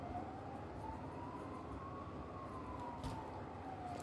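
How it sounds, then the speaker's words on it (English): An ambulance siren passes at a distance, a faint steady wail that rises and falls slightly over a low rumbling background, with no talk. "Yes, ambulance going past."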